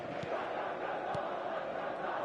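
A stadium crowd in the eFootball video game roars in a steady, dense wash of cheering and chanting, continuous and fairly loud with no single voice standing out.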